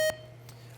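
A quiz-bowl buzzer in a high school academic game match sounds one short, sharp electronic beep at the start, followed by a faint steady hum.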